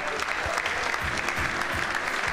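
An audience claps at a live comedy show in Abuja, a dense, steady round of applause with a few stronger beats in it, fairly close and without talk over it.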